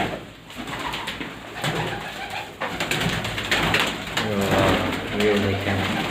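Pigeons in a coop with nesting birds, eggs and chicks coo softly and repeatedly close by, low throaty calls rising and falling, with a person talking in Hindi over them.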